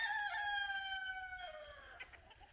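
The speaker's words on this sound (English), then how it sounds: "Hello, chickens!" A rooster crows loudly and close on a spring farm, one long drawn-out call fading near the end, with a few soft hen clucks following and no talk.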